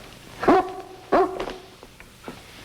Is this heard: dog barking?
yes